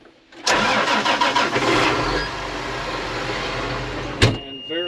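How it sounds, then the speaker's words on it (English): John Deere 8430 tractor with an IVT transmission starting up: the engine cranks, quickly catches and settles into a loud, steady idle, close by, with a brief sharp click near the end. "we're going to go ahead and start the tractor"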